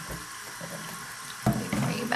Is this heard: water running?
yes